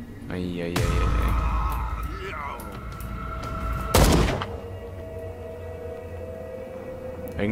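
Loud gunfire in the video game Call of Cthulhu bursts out with deep booming thuds, then a sharp blast midway, while a voice talks over the noise.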